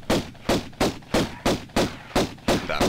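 Gunfire in the 1996 video game Tomb Raider, roughly nine loud, evenly spaced shots in a steady rapid rhythm, each a sharp blast with a short decaying tail.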